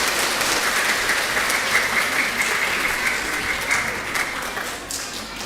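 Steady, dense clapping from a congregation fills a Sunday worship service at a Toraja church, honoring the children; the applause stays full and even throughout with no pause.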